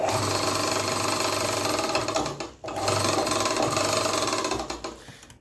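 Vacuum pump freshly refilled with oil running loud and rattly with a harsh buzzing chatter, cutting out briefly midway before resuming and then winding down.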